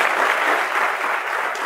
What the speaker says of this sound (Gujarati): બજાવ તાલી.